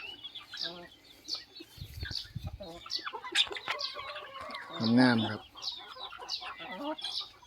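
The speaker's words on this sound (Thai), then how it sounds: "คือเลี้ยงไก่บ้านครับ เพาะพันธุ์ไก่บ้านขายนะครับ" Domestic chickens on a breeding farm cluck and chatter nearby, with one louder squawk midway, while someone speaks briefly over the birds.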